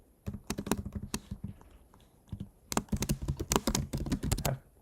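Rapid typing of code on a computer keyboard, bursts of close, crisp key taps with a brief pause in the middle before a dense flurry resumes.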